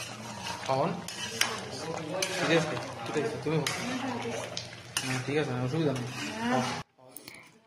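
Home cooking for a New Year's Eve meal in Guwahati: utensils scrape and clink against pots as food is stirred, with frequent metallic knocks under continuous conversation.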